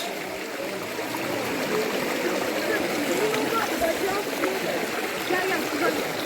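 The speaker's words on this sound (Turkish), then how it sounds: "şelalenin oluşturduğu derenin içinden yürüyoruz" Cool stream flowing below a forest waterfall, a steady close rush and trickle of water over rocks with faint splashing as someone wades through it.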